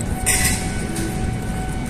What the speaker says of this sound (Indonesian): Ada kereta lewat, tapi kita nggak video ya